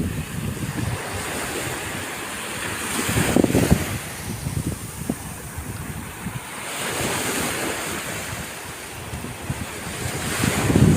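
Sea waves breaking on the shore at an Italian seaside in the evening, a steady wash of surf with rising and falling swells, mixed with constant wind buffeting the microphone, no voices.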